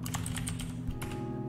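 Quiet, rapid keystrokes clatter on a computer keyboard in a short burst of typing, close by with no voices.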